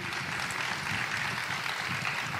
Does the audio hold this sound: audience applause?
yes